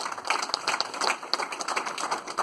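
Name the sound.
audience applause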